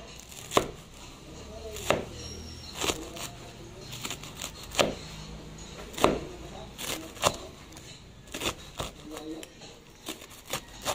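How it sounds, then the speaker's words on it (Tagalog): Knife chopping food into small pieces on a cutting board, steady irregular close thwacks repeating throughout, fairly loud and alone. "Saka nyo hiwain nyo ng maliliit."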